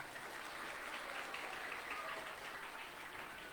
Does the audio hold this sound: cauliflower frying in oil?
no